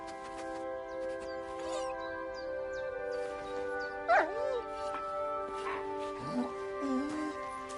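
A dog in the medieval game Kingdom Come Deliverance 2 gives a few short whimpers and yips over steady game ambience and music, with a louder yelp near the middle and softer whines toward the end.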